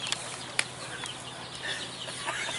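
Chickens cluck and scratch faintly at a swap day, with a few sharp clicks and bursts of movement over a low background hum, all quiet and close-by.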